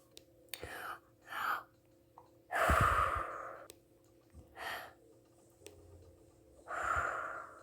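Deep breaths of a breathing exercise, several breathy inhales and exhales in irregular bursts separated by quiet pauses, close and soft, with one louder, longer breath near the middle.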